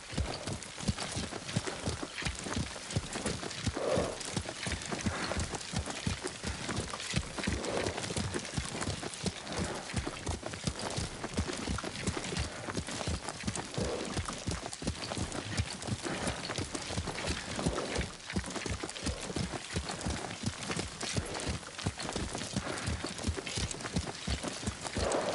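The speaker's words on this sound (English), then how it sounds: "Lord Sakai taught me to ride a horse." Horse hooves clip-clop in a steady, rhythmic gait while riding in the video game Ghost of Tsushima, close and continuous throughout with a brief snort or whinny.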